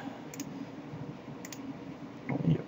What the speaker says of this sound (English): we'll just type in Billy.